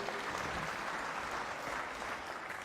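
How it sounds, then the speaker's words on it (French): Crowd applause at a political rally, a dense, even wash of many hands clapping at a steady level throughout. "Mais vous pouvez vous applaudir, bien sûr."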